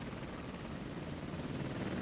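Apache attack helicopters carrying missiles fly at night, a steady broadband rotor and engine roar that holds constant and fairly faint with no break.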